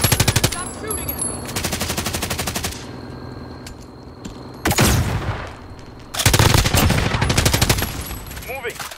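Loud bursts of automatic gunfire in Call of Duty: Modern Warfare, with a long rattling stream, a quieter gap, one short volley, and then another sustained rattling run that continues to the end.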